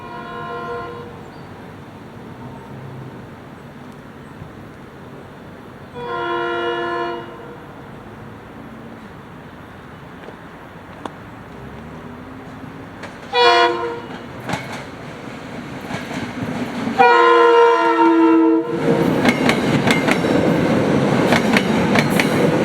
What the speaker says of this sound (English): Our first train would be a SEPTA heading to Norristown.